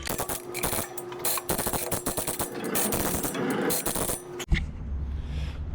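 Ratchet wrench tightening the bolts on wood chipper blades, a fast run of close, loud clicking strokes for about four seconds, then stopping.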